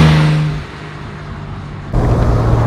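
A 1957 Lancia Aurelia B24 S Convertibile driving, its engine hum easing off briefly before a louder, steady drone returns, heard close with no talking.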